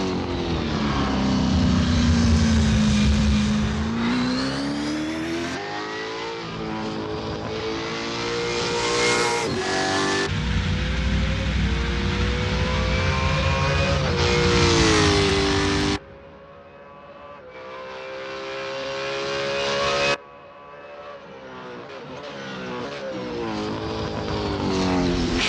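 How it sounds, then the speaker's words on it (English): A V8 Ford Mustang S550 Supercar in Assetto Corsa at Albert Park Circuit: a loud, close engine revs up and down through repeated gear changes, each climb ending abruptly, with brief lifts off the throttle and no voices. "Henrik Fleischer is getting to grips with the Supercar V8 Ford Mustang S550 in this practice"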